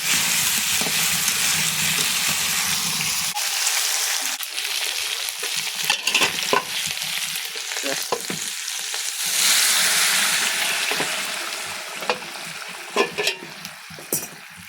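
Potatoes frying in oil in a pan, a loud continuous sizzle with stirring scrapes and occasional clinks of utensil against the pan, rising and easing in waves, no voices.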